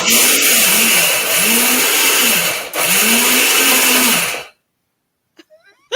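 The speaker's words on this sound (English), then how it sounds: "This is the beauty of the Vitamix. It absolutely obliterates everything." A Vitamix blender grinds pistachio nuts with a loud, steady motor roar and a pulsing, wavering pitch for about four seconds, then cuts off abruptly to near silence broken by a few small clicks.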